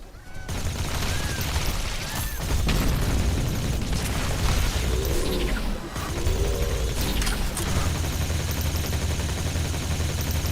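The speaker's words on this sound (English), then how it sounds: "nuclear mine and a grenade" A nuclear mine and a grenade detonating in the video game The Riftbreaker, producing loud rumbling blasts and continuous gunfire-like crackle over dense game effects for about ten seconds, with brief whistling tones in between.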